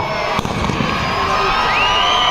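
A fireworks display over Bhagwant ground in Barshi, with loud crackling bursts and rising whistles over a constant roar of crowd noise and shouting.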